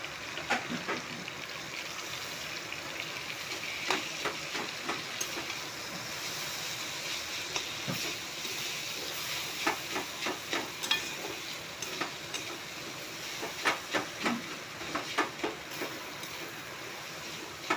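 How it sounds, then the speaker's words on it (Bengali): Chow mein noodles stir-fried in a pan with already fried onions: a continuous sizzle broken by repeated scraping and tossing strokes of the spatula, growing more rhythmic toward the end, with no voices. "এখন আমি চাউমিনগুলো দিয়ে দেবো।"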